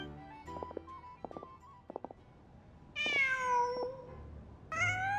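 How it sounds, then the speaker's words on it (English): A cat in Genshin Impact meows twice, clear, close and drawn-out, after a stretch of soft, short game sound effects and taps. "Just a cat."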